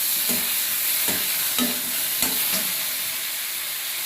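Tomatoes sautéing in a pan for radish chutney, a constant close sizzle punctuated by four or five sharp spatula scrapes in the first few seconds before settling into plain hissing, without any talk.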